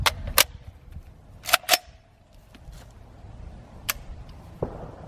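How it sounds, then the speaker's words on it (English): Dry mechanical clicks from a 7.62x39 rifle's firing pin striking a primer lightly and misfiring, a few sharp isolated snaps close by, with quiet handling noise between them and no shot going off. "Click again. No fire, primer strike, still nothing."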